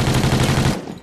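A loud, close burst of rapid automatic gunfire in an online shooter video game, about three-quarters of a second of dense rattling shots that then cut off abruptly.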